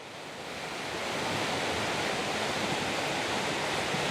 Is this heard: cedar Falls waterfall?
yes